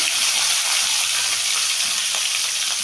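Black cumin seeds, sliced flat beans and potato frying in hot oil in a pan, a steady loud sizzle with faint stirring clicks, and no talk.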